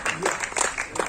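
Seminar audience clapping together in a hall, a brief burst of scattered hand claps with faint crowd murmur, fairly distant and not very loud.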